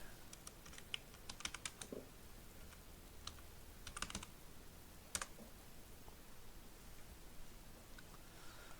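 Keys clatter on a computer keyboard in short bursts of quiet clicks, with pauses between runs of typing over a faint hiss, no voice present.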